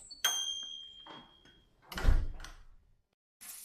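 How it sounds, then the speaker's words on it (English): A bakery door is pushed open: a bright bell ding at the start, followed by soft clunks, a heavier thud of the door and a final rustle, all quiet and without voices. "He crossed the street, pushed open the bakery door, and the bell jingled like it was cheering him on."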